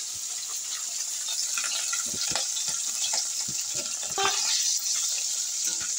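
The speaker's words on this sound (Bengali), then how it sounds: "কড়ার তেল গরম হয়ে গেছে, আমি নুন হলুদ মাখিয়ে রেখেছি, মাছ কড়াতে দিয়ে দিলাম।" Katla fish rubbed with salt and turmeric frying in hot oil in a wok, giving a steady bright sizzle with scattered crackles and small pops throughout, close and loud, with no talking.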